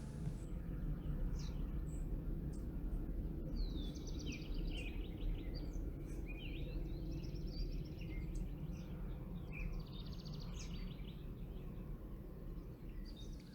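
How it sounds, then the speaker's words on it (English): Birds chirp and twitter in repeated bursts outside an open kitchen window, somewhat distant, over a steady low background rumble. "I have my kitchen window open, that's why you can hear the bird sounds."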